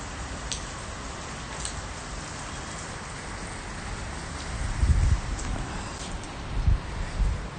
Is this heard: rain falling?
yes